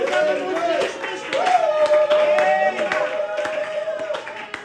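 A church congregation claps in acclamation during a sermon, steady rhythmic hand claps running beneath a loud, sustained voice that carries over them.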